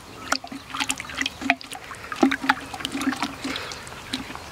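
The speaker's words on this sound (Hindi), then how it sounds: "अब इसे अच्छे से घुमा के मिक्स कर लेना है।" Bordeaux mixture is stirred in a container, making close, irregular liquid sloshing and trickling splashes in quick uneven bursts throughout.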